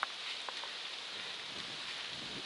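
Steady rain falls on a rocky ridge hiking trail of the Appalachian Trail's Knife Edge, a soft continuous hiss with a few sharper drop taps, faint and alone without talk.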